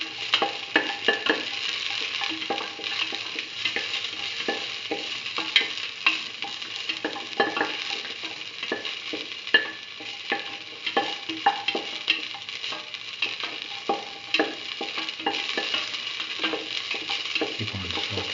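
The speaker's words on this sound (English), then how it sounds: "Keep on sauteing." Shallots sauté in oil in a pan for mustard potato rice, with a continuous close sizzle and repeated scraping stirring strokes throughout, no voices.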